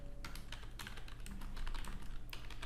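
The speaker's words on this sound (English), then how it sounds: "Actually, I'm just typing out the real process." Typing on a computer keyboard, quiet and close, with rapid irregular clicks of keys in bursts and short pauses.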